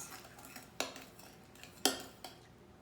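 Homemade moon sand is mixed in a bowl, with light scraping and two or three sharper clinks of a utensil against the bowl, quiet and close.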